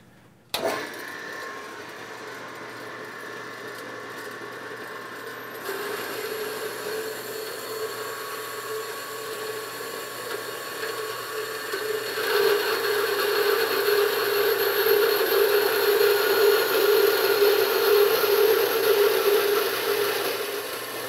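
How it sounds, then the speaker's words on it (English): Bandsaw with a coarse blade cutting thin wall steel tubing, a steady motor whine with a rising, harsher rasping tone as the blade bites, growing louder partway through and holding to the end. "So let me go ahead and make these cuts. Now, the bandsaw blade that I have in here is a little bit too coarse for this thin wall tubing."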